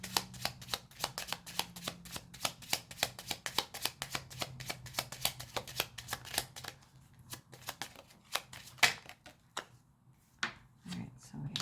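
A deck of cards being shuffled close up: a dense run of quick riffling clicks for several seconds, then slower scattered snaps and taps as the cards settle.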